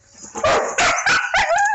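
A puppy gives a quick run of about four sharp, high yips and barks in a bright indoor setting, close and loud against a quiet background.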